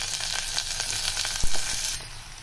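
Bottle gourd pieces tipped into potatoes frying in a pan, a continuous close sizzle with a soft thump as the gourd lands, without talk.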